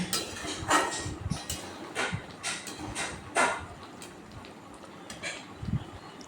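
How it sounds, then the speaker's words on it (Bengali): A spoon scrapes and clinks against a pan as raw mango pickle is stirred continuously over a high gas flame, giving irregular metallic taps and scrapes, fairly close, without talk. "এইভাবে কন্টিনিউয়াসলি নাড়তে হবে না হলে নিচে থেকে লেগে যাওয়ার সম্ভাবনা থাকবে যেহেতু হাই ফ্লেমে গ্যাসটা চলছে"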